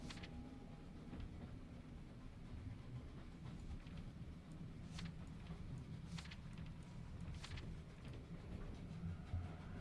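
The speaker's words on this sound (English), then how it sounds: "I leave on the first train." A train runs in The Room 3 puzzle game with a low, steady, continuous rumble and a few faint clicks. It stays quiet and even throughout, with no talking.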